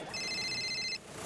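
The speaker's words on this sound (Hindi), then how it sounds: "फोन आया।" A telephone rings in one short electronic burst of warbling trill lasting under a second, clear and fairly close over a soft background hum.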